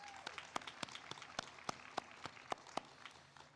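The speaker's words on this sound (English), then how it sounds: "Let's give ourselves a round of applause." Sparse applause from a graduation audience at a nutrition master's hooding ceremony: a handful of distinct, fairly loud claps over a soft bed of scattered clapping, thinning out toward the end.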